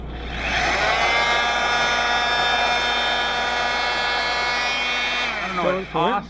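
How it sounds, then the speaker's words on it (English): An oscillating multi-tool fitted with a diamond-plated blade grinds steadily into metal, making a loud, even, high buzzing whine for about five seconds. It cuts off abruptly and a brief voice follows. "this is one of those oscillating cutter things. You can put different blades on here. This has got a diamond plated blade"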